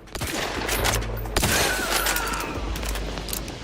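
Rapid gunfire from a weapon in Outer Worlds 2, a dense burst of close, loud shots firing in quick succession with booming low impacts throughout.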